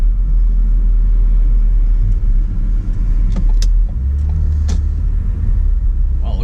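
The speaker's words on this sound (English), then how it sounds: "Oh, look at all the traffic." Steady road noise from a car on the road in Eastpointe and Roseville, Michigan, near 11 Mile Road and I-696: a constant low engine and tyre rumble, with faint passing vehicles swelling and fading over it, and no voices.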